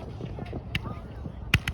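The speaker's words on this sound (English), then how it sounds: "Fireworks." Fireworks at a Victoria Day show in Linus Park, North York, pop as a few distant sharp bangs, one louder burst near the end, while a person talks nearby.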